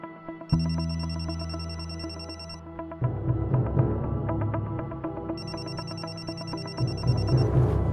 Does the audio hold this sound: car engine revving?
no